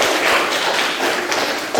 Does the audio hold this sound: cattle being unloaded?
no